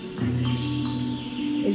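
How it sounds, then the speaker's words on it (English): A small metallic handpan drum rings with soft, sustained tonal notes, a few gentle strikes overlapping and decaying close by. "It's a pan-hand drum."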